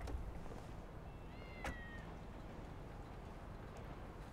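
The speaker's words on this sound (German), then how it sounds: "Immer diese Katzen hier" A cat meowing in Grand Theft Auto V, a single short, faint meow in the middle over a quiet background hum.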